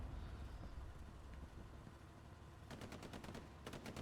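Machine gun fire in the World War II shooter Hell Let Loose at Utah Beach, two rapid bursts of evenly spaced shots near the end, over a constant rumbling vehicle engine background.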